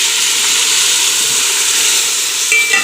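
Yogurt added to a pot of mixed vegetable pulao, giving a steady loud sizzling hiss throughout, with a faint clink near the end.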